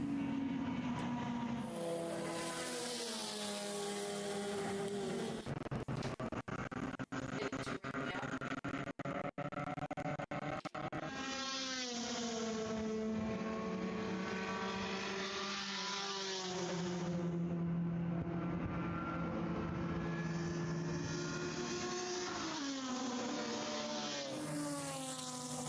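Race cars at Virginia International Raceway, including a Mazda RX-8, roar past with rising and falling engine notes and gear changes. The sound stays loud and continuous as several cars pass close by one after another.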